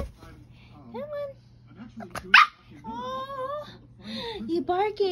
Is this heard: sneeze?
no